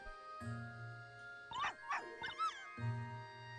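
A video-game puppy in Professor Layton vs Phoenix Wright gives a few short, high yips and whimpers in a quick cluster, set against a steady electronic hum that drops out and returns.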